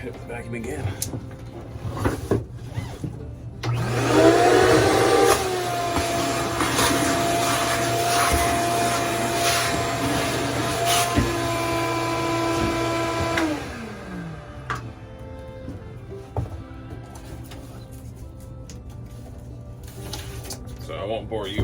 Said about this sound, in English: Now I'll hit the vacuum again.